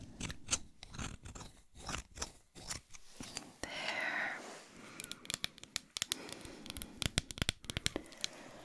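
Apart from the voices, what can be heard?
scissors snipping close to the microphone in ASMR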